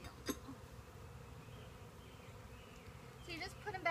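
Honeybees buzz faintly around a hive as it is opened and handled, a thin continuous drone with brief sharper sounds near the end.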